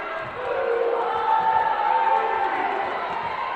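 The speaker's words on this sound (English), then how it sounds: "Crowd going wild for that." Spectators roar and cheer after a rally at a North Greenville vs. Converse women's college volleyball match, a dense, sustained crowd swell that builds and holds steadily through the whole stretch.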